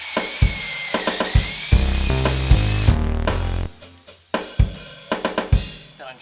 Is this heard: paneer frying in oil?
no